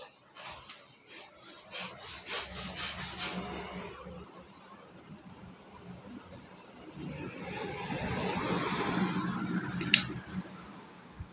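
Hand stitching jute yarn through a mat, giving soft rubbing and rasping pulls of fibre with a few sharper rustles, close and fairly quiet with no talk.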